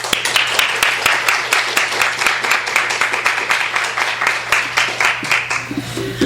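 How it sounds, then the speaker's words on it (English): Applause from an audience at a book talk, dense and steady clapping at moderate volume with a low hum beneath, lasting several seconds. "Let's please give her a warm round of applause."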